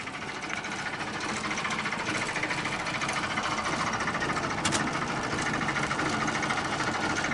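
Faulty Derby moped engine running steadily with a dense, rattling mechanical buzz and vibration, close and constant throughout, no voices.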